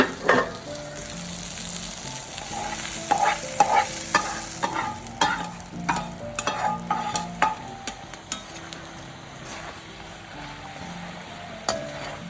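Bitter gourd stir-frying in a pan after garlic, a busy sizzle broken by repeated scraping and clacking strokes of a spoon moving the pieces around, close and fairly loud, with no talking.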